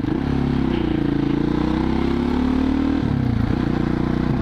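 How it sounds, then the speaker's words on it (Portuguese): A 2007 Husqvarna SM610 single-cylinder motorcycle idles and revs steadily nearby, its loud, continuous low thumping throb dipping briefly before picking back up. "O barulhinho dessa moto é show."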